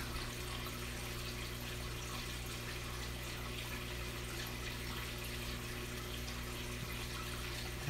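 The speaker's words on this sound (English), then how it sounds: "So I'm just gonna pour it right in the tank." A Red Sea NoPox dose is poured into a saltwater aquarium, heard as a steady, even wash of trickling water over a low, constant pump hum, with no talking.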